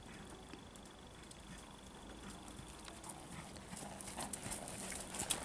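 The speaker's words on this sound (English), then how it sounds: "entering a working trot." A horse in a working trot sounds a quiet, even clip-clop of hooves in a dressage arena, faint and steady against background noise, growing a little louder toward the end.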